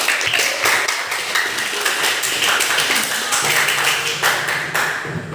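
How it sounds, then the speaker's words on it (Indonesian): A class claps together in a room, dense applause with sharp taps running steadily throughout, loud and close. "beri tepuk tangan buat kita semuanya"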